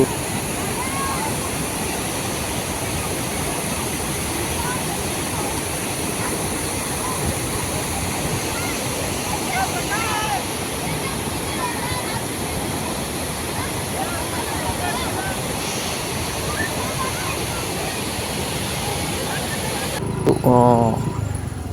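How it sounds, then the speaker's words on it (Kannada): Steady roar of lake water pouring over the overflow of the historic Kudligi lake like a waterfall, loud and continuous throughout, with a brief extra splash or rumble near the end. "ನೀರು ಜಲಪಾತ ರೀತಿ ಹರಿದು ಹೋಗೋದು ಇಲ್ಲಿ ಕಾಣ್ಬೋದು"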